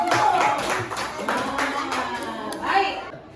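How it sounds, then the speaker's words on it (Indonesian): A fifth-grade class at a primary school in Ambon claps for a group of classmates, a brief, close patter of small hands mixed with children's voices and a teacher speaking. "tepuk tangan untuk kelompok 1"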